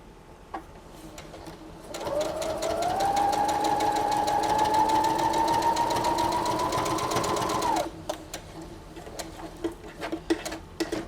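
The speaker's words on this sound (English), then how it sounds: "when I sew it I won't have any jagged ends." A sewing machine stitches a burp cloth in one steady, close whirring run of about six seconds, with quiet handling clicks before and after.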